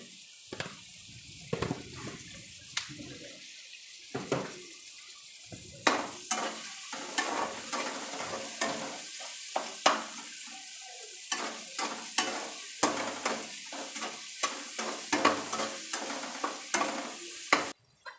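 Onions sauté in a pan for ivy gourd curry, with a soft sizzle under frequent clattering stirs and scrapes of a spoon that come in quick bursts, and no voices.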